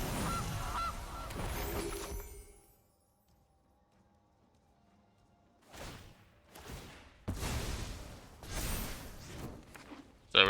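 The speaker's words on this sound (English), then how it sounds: "Gilded Goose." Cartoonish goose honks from a Gilded Goose card in MTG Arena, a digital card game, sound in short bursts, with a silent gap and then several quick whooshing effect hits in between.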